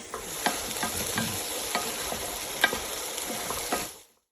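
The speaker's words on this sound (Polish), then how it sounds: "Ładnie nam się wszystko podsmaża." Vegetables for pumpkin soup fry in a pan with a steady sizzle, while a utensil stirs them in scattered scrapes and knocks throughout.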